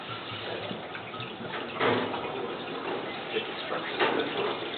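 Water swirling and sloshing in a water vortexer, a steady close rushing wash with a couple of louder surges as the vortex forms.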